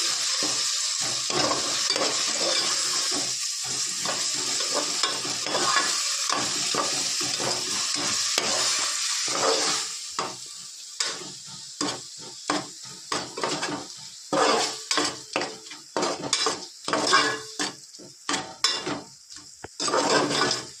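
Spices frying in a pan with a spatula stirring through them: a loud, continuous sizzle overlaid with scraping strokes that turn into distinct rhythmic scrapes and clinks against the metal pan in the second half.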